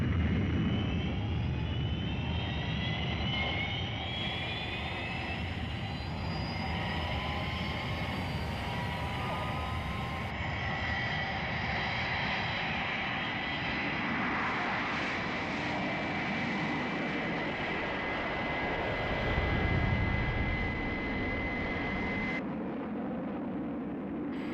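Fireflash aircraft from Thunderbirds taking off at full power, a loud, steady jet roar with whining high tones that holds throughout, swelling briefly near the end before easing slightly.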